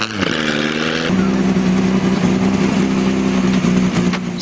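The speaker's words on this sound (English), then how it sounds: "Vintage motorcycles are now also a feature of the Mount Tarrangower hill climb" Vintage motorcycle engines rev and drone loudly nearby at the Mount Tarrangower hill climb in Maldon, Australia, rising in pitch and then holding a steady, throaty roar with small surges.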